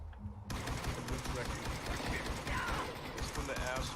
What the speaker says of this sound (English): Shots fired. We got fire.